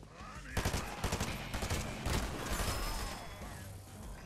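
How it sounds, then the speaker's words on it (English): Turret firing in the video game Fortnite, a rapid series of loud, close gunshots in a steady rhythm over a dense, noisy battle background. "There's a turret. It's destroying me."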